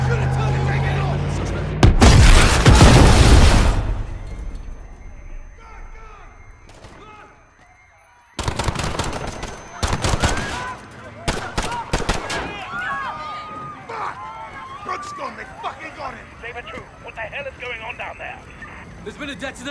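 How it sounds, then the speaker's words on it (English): Call of Duty gunfire: loud bursts of shots and booming blasts, then rapid crackling fire with people shouting over the chaos. "Shots fired."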